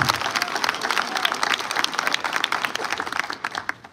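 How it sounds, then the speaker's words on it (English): A crowd applauding steadily, dense clapping filling the space and tapering off slightly at the end. "Let's give a round of applause for supporting the agency all the way to Cincinnati."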